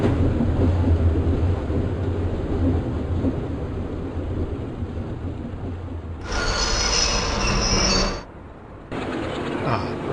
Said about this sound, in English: Quite fast, we'll stop fairly sharply, hear the disc brakes squealing.